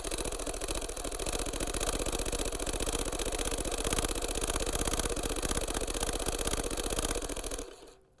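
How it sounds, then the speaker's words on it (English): A Bell & Howell 2709 film camera runs with a steady mechanical whirring and rapid clatter for several seconds, then winds down and stops near the end. "This is the sound of a Bell & Howell 2709."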